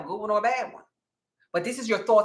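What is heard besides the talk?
No distinct noise like a dog, phone or traffic.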